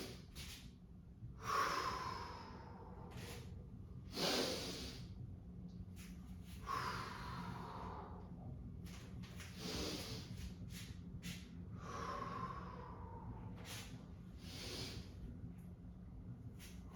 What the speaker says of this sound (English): breathing the whole way through.